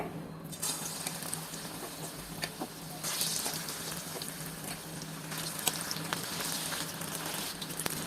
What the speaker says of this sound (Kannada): ನೀವು ಈ ರೀತಿ ಫೋರ್ಕ್ನ ಯೂಸ್ ಮಾಡಿ ಡಿಪ್ ಮಾಡಿ ಈ ರೀತಿ ಎತ್ತಿ ಹಾಕ್ಬೋದು ಎಣ್ಣೆ ಚೆನ್ನಾಗಿ ಕಾಯ್ದಿದೆ